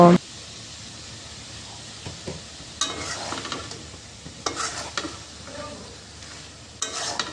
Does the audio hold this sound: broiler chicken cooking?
yes